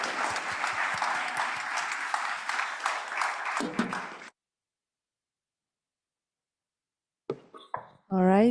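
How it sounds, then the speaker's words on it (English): Applause for a panel at a climate action conference, sustained clapping that stops abruptly, then silence before a speaker briefly begins talking. "Please join me for a round of applause to the panel."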